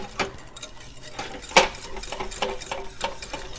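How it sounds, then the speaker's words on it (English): Butter and sugar whisked in a hot pan for a breakfast casserole, giving quick scraping clinks of a whisk against metal in an uneven rhythm, close by and fairly loud, with no talking. "just keep whisking it, and it will as the sugar dissolves a bit"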